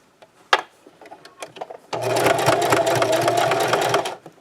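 After a few light clicks and taps, a sewing machine starts up and stitches close to the edge of a scrub cap for roughly two seconds, close and loud with a fast, even rattle, then stops.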